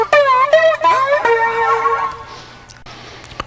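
An electric guitar plays a short, fast run of a riff, bent and sliding notes ringing out briefly before fading into quiet noise and a final pluck.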